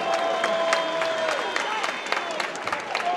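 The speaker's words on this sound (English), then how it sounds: "let's have a massive round of applause, please, for both these ladies" A live crowd applauds and cheers after a five-round women's fight at an MTGP London fight night, a steady wash of clapping with whistles, shouts, and an announcer's voice running over it.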